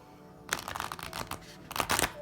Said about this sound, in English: I don't know how many times I shuffled, but I'm ready to fan them out